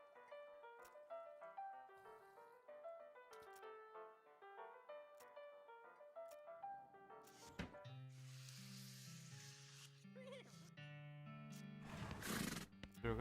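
A horse neighs in the Western role-playing video game West of Loathing, a whinny rising over plinking game music before a sizzling, hissing burst and more music near the end.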